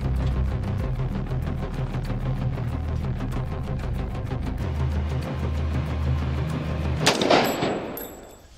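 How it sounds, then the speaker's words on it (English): Gunfire in a staged scene where a terrorist shoots the Queen in the back of the head, heard as steady rapid bursts of loud shots throughout, ending in one sharp, louder blast near the close. "He's just shot the Queen in the back of the head."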